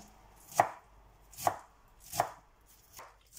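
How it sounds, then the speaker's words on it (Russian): Four slow, separate knife chops through fresh purslane land crisply and close, spaced about a second apart, with no talking. "Я его мелко нарежу."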